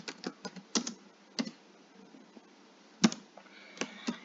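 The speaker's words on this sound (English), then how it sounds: "So you can type your comment here" Sparse keystrokes on a computer keyboard while a comment is typed into a school grading system, heard as separate clicks and a few sharper taps at an uneven pace. The sound is close and quiet, with no speech.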